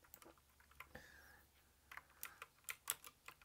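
Clicky computer keyboard being typed on in short, irregular bursts of sharp clicks, sparse at first and then quicker and louder toward the end, with a faint hum underneath and no talking.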